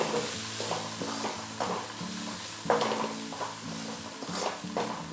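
Onion, garlic, sambar powder, coriander, turmeric and chilli powders sizzle in a pan for spicy garlic rice, a steady close frying hiss broken by repeated scraping stirs of a spoon.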